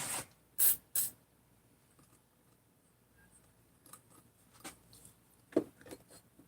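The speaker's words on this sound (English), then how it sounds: "Hit with some blaster here." Blaster penetrating spray is shot onto a washer in a few short, hissing bursts close to the mic, followed by faint clicks and light taps against a quiet background.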